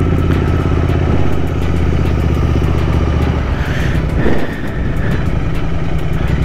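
A 650 motorcycle with an aftermarket exhaust idles with a deep, steady, rumbling burble, loud and close, dipping briefly in pitch near the end before settling back, with no talk over it.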